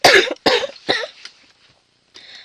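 Three sharp coughs close together, loud and near, then a quieter rasp and a faint breath after a short pause.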